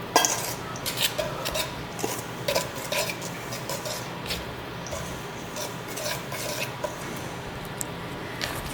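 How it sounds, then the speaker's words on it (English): Dry ingredients for a simple bread dough being whisked together in a bowl, with a steady run of quick scraping and tapping strokes close by, no voices. "we're going to just whisk that together and prepare to make the wet ingredient mixture"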